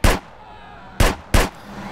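Three loud, close Desert Eagle pistol shots ring out in GTA: San Andreas, one at the start and then two in quicker succession, each a sharp bang with a short decaying tail.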